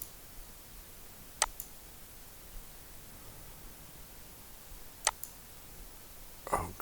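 A computer mouse clicking: three isolated, crisp clicks spread over several seconds, close by, over a faint steady hiss, with no talking.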